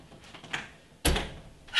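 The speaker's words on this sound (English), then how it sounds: "Our storm door is messed up. It comes undone sometimes. And so we have to go shut it back." A faulty storm door being shut at a house, a soft shuffle followed by one sharp, close bang as it closes, then a second rising knock at the end.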